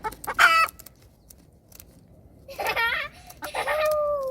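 Chickens cluck and squawk in agitated bursts while their wings are clipped, a sharp outburst at the start, a quieter gap, then longer, louder protesting calls close by.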